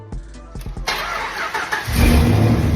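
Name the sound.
car engine first start with new exhaust and welded wastegate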